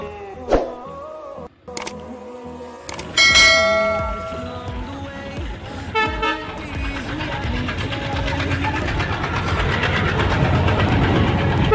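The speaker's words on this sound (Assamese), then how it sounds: "আপোনালোকেও চাওক আজি মোৰ লগতে ট্ৰেইনখন।" A train passes at a crossing in Assam during Vishwakarma Puja, with clanging bell tones and rising rumble and clatter of wagons building steadily, while people talk nearby.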